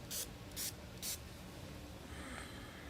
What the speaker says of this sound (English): what I'm going to do is actually spray mist on the outside